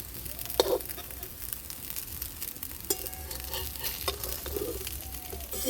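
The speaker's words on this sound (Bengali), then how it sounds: "আমি সবগুলো ভর্তাগুলোকে আমি প্রথমে ভেজে নিচ্ছি, মসুর ডালের ভর্তাগুলোকে" Masoor dal (red lentil) fritters fry in oil in a pan, a close and steady crackling sizzle broken by a few scraping turns and light knocks of the spatula, with no one talking.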